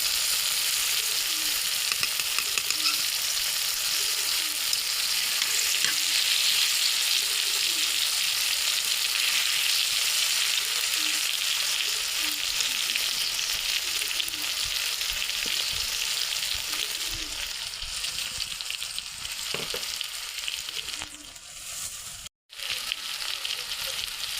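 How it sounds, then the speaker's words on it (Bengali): Tomato pieces frying in a hot pan for a tomato mash, a steady loud sizzle that runs the whole length with no one speaking, briefly dipping near the end. "এই যে টমেটোটা ভাজা হয়ে গেছে"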